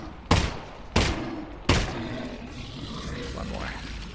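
Three loud gunshots from Half-Life: Alyx crack out in quick succession, each with a ringing tail, followed by low rumbling game ambience and faint movement.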